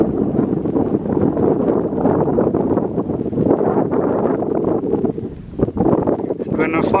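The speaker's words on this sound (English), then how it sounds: "This is a bit breezy up here" Strong wind buffets the microphone on an exposed, breezy hilltop, a loud continuous rushing roar with gusty swells that dips briefly near the end.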